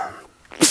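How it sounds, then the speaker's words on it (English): A single sharp human sneeze bursts out at the end of a short quiet moment, close and loud, triggered by sawdust in a woodworking shop. "I'm going to have a sneezing fit for like 10 minutes"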